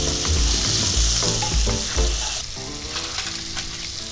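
Dried Bombay duck fish (loitta shutki) frying in hot oil, a loud, steady close-up sizzle with crackling bursts and stirring scrapes throughout, with no voices.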